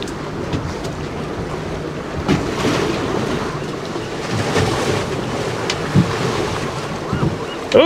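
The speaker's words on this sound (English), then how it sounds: "The wind has definitely picked up and has caused me some problems here." Strong wind gusts buffet the microphone on a fishing boat at sea about 30 miles from port, with water and waves washing steadily beneath.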